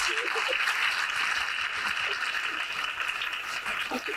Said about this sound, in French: gives a hand of clapping to Jesus